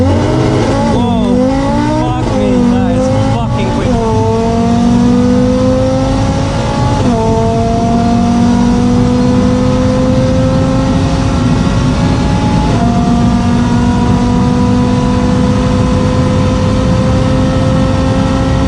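An Audi RS3 with an Eventuri intake, in S mode with traction off, launches and accelerates at full throttle, its loud engine rising through several quick gear changes and then pulling hard in one long, steadily climbing note.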